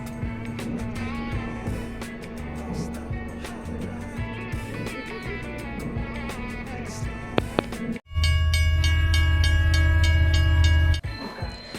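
Cabin sound aboard the Soekarno-Hatta airport train: steady rolling rumble with clicks and hum. It gives way abruptly to a louder tonal drone, likely a station arrival announcement or chime, with no talk.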